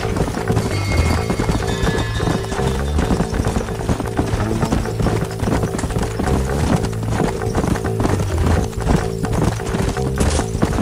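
Horse hooves clip-clop steadily in the Red Dead Redemption video game, several horses on the move near Pleasant's house, with a whinny mixed into a busy, loud bed of game music and ambience throughout.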